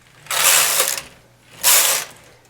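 Two loud passes of a knitting machine carriage knitting rows of a hand-tooled lace edge, each a whirring mechanical rush lasting just under a second, close up with a short pause between them and no talking.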